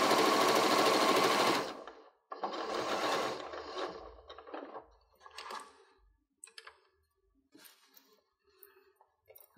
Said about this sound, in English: and just sew all the way around.